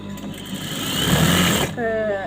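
Sewing machine stitching lining onto a chudithar top, a steady motor whir for about two seconds before stopping, with a voice talking over and after it.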